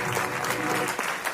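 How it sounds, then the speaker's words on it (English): Brief burst of audience applause at a talk on Black love in ancient Kemet, steady dense clapping filling the whole moment without voices on top. "Yeah, give her applause, man."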